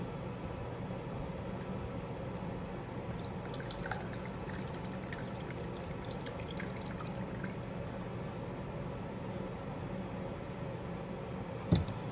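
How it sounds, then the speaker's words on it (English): Strained duck fat trickles and drips steadily into a container, a soft continuous pour with faint splashes throughout. "I'm going to go ahead and strain the duck fat here"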